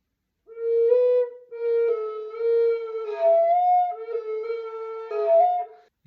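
Five-hole Native American style slider drone flute played with a finger not fully sealing a hole, a breathy steady tone with a second pitch breaking in and overtones wavering, close and alone with no talking.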